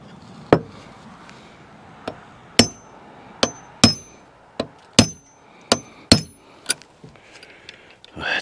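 Hammer blows strike a stuck part in a hot new building, about a dozen sharp, loud, ringing impacts at irregular intervals with brief pauses between, no talking.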